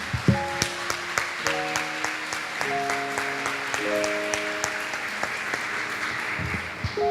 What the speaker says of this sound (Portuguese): Será que nós podemos aplaudir esse Deus poderoso?